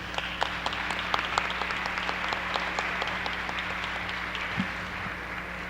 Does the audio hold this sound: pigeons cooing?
no